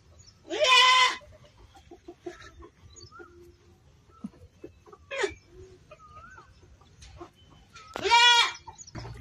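Goats on a village farm give two loud, drawn-out bleats and a shorter one between them, with faint bird and poultry calls in a quiet rural background.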